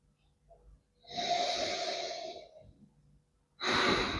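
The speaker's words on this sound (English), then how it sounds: "So let's have a sniff." A long, close sniff of 10-year tawny port drawn in through the nose, then a short silence and the start of a second sniff.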